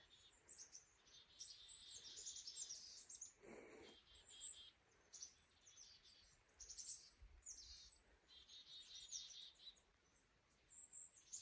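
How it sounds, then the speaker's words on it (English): Several birds chirp and tweet in high, bright bursts over a faint outdoor hum in a valley on Mount Bigelow, Maine, fairly distant and fairly quiet. "there are some birds singing"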